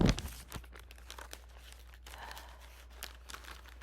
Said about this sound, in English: You may not eat the card that came with my book.